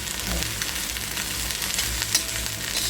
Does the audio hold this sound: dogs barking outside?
no